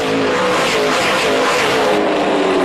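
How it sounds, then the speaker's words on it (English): Race cars roaring past at speed on the Cayuga oval track, a loud, continuous engine wail filling the whole stretch as the pack goes by close, with no talking. "Listen to that horsepower go by."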